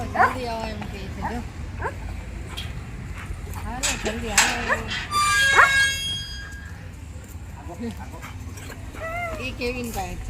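A dog barks and yips at a family home, sharp bursts mixed among ongoing conversation and a louder cluster of sounds midway.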